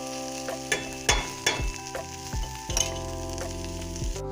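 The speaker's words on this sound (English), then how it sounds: "I'm just going to give it a really good stir now." Vegetable masala with tomato puree sizzles and fries in a pan while being stirred, with repeated clear scraping strokes of the spoon over a steady, close sizzle.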